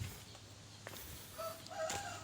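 Laying hens in a second coop of about 950 birds give faint, scattered clucking calls, most noticeable toward the end, over a low, quiet barn background.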